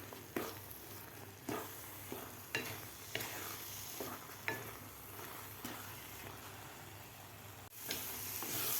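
A thick carrot barfi mixture is stirred and roasted in a pan, giving soft scraping strokes roughly every second over a low sizzle, quiet and close, with no voices.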